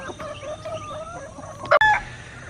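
Chickens inside a movable chicken tractor cluck softly and steadily close by, with a sharp, louder squawk and a brief clatter near the end of the short stretch.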